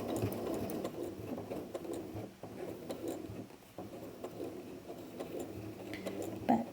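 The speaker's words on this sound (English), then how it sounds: "Just make sure I'm sewing over that side and armpit seam." A sewing machine runs steadily as it stitches over a bulky side and armpit seam of a French seam armhole, a continuous quiet whirring and ticking with small pauses, heard alone.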